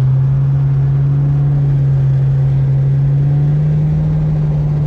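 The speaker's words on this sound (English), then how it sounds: "You guys hear that engine" A Cadillac CTS-V engine runs steadily nearby, a deep continuous drone with a strong low hum and slight shifts in pitch.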